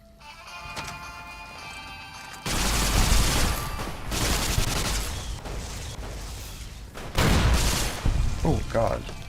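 Laser rifle firing in the video game Fallout New Vegas: after a quieter opening, loud bursts of rapid fire crackle in uneven volleys with a few sharper blasts near the end.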